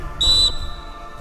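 A single sharp whistle blast at a security guard training drill, high and piercing, lasts about a third of a second, then fades into quiet.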